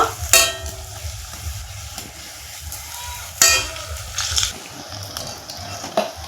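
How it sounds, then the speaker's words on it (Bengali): Chops made from bager leaves fry in hot oil in a pan, giving a steady crackling sizzle broken by a few louder scraping clatters as the pieces are turned over. "এই উল্টো পাল্টা করেই এই চপগুলো আমি ভেজে নিব"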